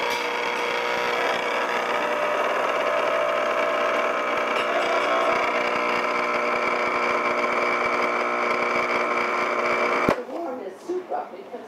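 Espresso machine pump buzzing loudly and steadily for about ten seconds while pulling a shot, then cutting off abruptly and leaving faint handling noises.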